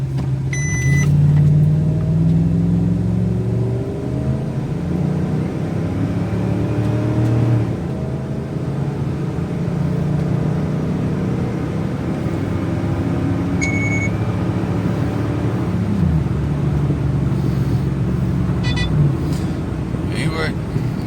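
A 5.9 Magnum V8 vehicle fitted with a Kegger intake mod pulls hard through a 0-60 time trial, its engine rumbling loud and steady with rising gear sweeps and shift breaks, close to the cabin, with some talk over it.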